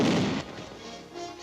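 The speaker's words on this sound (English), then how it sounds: "The simplest weapon he employs is the hand grenade." A hand grenade blast used by infantry, a single heavy boom up front that rolls off into a long, loud rumbling decay with no voices.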